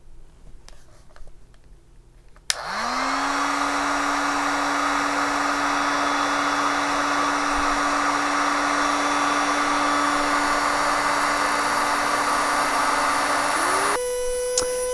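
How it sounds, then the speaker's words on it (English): A heat gun switches on and blows hot air steadily onto a temperature sensor for a DC motor speed setup, a loud continuous whoosh with a rising motor whine, then cuts off near the end. "Now I'm going to use this heat gun to heat it up very quickly."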